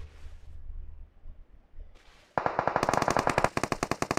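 PUBG Mobile gunfire: after a quiet lull, a loud burst of rapid automatic shots cracks out in quick succession, then tapers into a few separated rounds.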